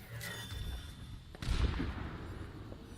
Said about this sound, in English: Charging up a shot. And get sniped